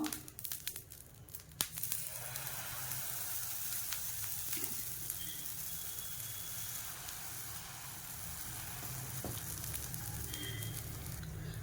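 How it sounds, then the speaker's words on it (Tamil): Steady hiss and crackle of a hot oiled dosa griddle for meat dosa, a continuous close sizzle that holds evenly, with a few small pops and crinkles and no talking. "தோசைக்கல் நான் கொஞ்சம் எண்ணெய் ஊற்றி நல்லா காஞ்சதுக்கப்புறம் இதில் தோசை வந்து ஊற்றிடலாம்"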